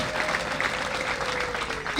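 A church congregation applauds in a steady wash of clapping with crowd murmur, while a voice speaks over it.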